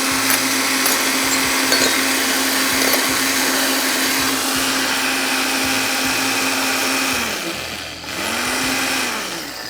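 A home grinder machine whirs loudly and steadily while grinding masala spices, its motor pulsing in short bursts, then briefly dipping and spinning up again near the end, with no talk.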